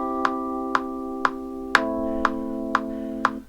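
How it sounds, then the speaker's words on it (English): Metronome clicks in Logic Pro, a sharp tick every half second, eight in all, ringing over sustained synth chords that shift partway through; no one speaks. "Like the beeping sound you heard, that was a metronome."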